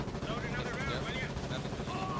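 Gunfire rings out in the war game Foxhole, a few sharp reports and rumbling booms tangled with other battlefield noise, sitting under a busy mix.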